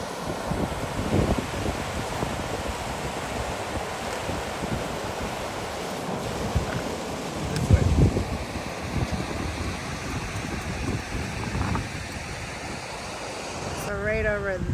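Rapids River rushing in a northern park near the Canadian border, a continuous loud roar of churning water mixed with wind buffeting the microphone, no talk.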